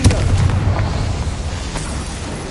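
Confringo fire-blast spell exploding in Hogwarts Legacy, a loud booming blast with a deep rumbling tail that fades over a couple of seconds.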